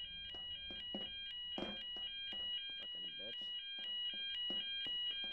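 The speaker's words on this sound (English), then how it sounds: "That's just the fire alarm." A fire alarm rings in Garry's Mod Star Wars roleplay, a steady electronic tone pulsing over and over with clattering game noises and a voice talking over it.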